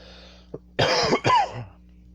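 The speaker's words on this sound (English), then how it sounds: "Forgive my cough" A person with a cold coughs twice in close succession, near and fairly loud, after a faint throat sound. The coughs are harsh bursts in a quiet room with a low steady hum beneath.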